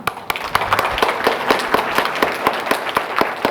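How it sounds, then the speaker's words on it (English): An audience at a conference keynote claps to welcome the speaker, with sharp, fairly quick hand claps ringing out close and clear for a few seconds. "So please welcome him with a big applause."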